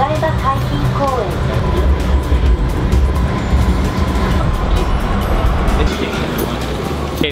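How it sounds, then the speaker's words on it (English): Ride aboard the Tokyo monorail heading to Odaiba City, a steady rolling rumble and hum of the train car filling the space, with low background chatter from passengers throughout. "I am on the monorail right now, heading to Odaiba City."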